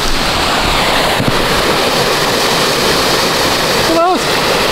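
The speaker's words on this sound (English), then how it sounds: "It's a waterfall." A waterfall on the grounds of an abandoned manor hotel gives off a steady, loud rush of falling water that fills the whole moment, with wind buffeting the microphone and a brief voice near the end.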